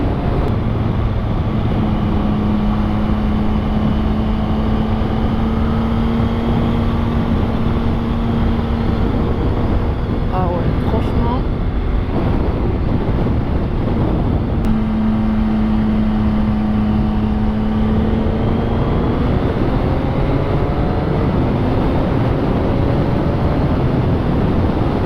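A CFMOTO 675SR-R three-cylinder motorcycle is ridden hard. Its engine note climbs and drops through repeated gear changes with a short lull midway, all under steady, loud wind rush and no talking.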